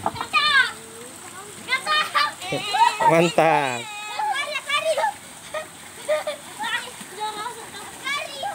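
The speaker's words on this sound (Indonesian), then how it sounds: "sekarang kita lagi liput anak-anak sedang mandi lumpur di sungai-sungai kecil" Children play and splash in mud in a small stream, with bursts of excited kids' voices, shouts and wet splashing at close range under nearby adult talk.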